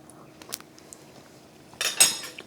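Utensil scraping and clinking in a bowl while stirring rice and vegetables into a quick microwave vegan mince bolognese, a few soft taps, then a louder burst of scraping near the end.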